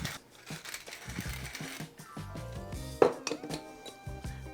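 Softened butter is worked together with minced flat leaf parsley and black pepper in a bowl, giving close, quiet clinks and scrapes of a utensil against the dish, with one sharper knock partway through.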